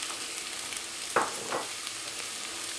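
Minced meat browning in a pan for a dried eggplant dish gives a quiet, steady sizzle, broken by two brief scrapes of a utensil.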